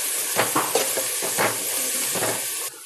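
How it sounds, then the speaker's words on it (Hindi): Green garlic sizzling loudly in hot ghee, with several scraping stirs of a spoon through the pan over a steady crackling fry. "गरम गरम घी में हम ये लहसुन डालेंगे और 2 मिनट इसको अच्छी तरह से हिलाएंगे"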